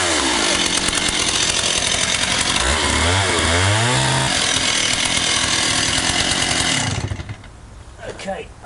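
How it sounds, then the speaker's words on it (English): A chainsaw cuts through the end of a log, running loud and close as a steady roaring drone with pitch dips while the blade bites into the wood, then cutting out and dropping to quiet near the end. "I'm just going to start the chainsaw up, Rachel"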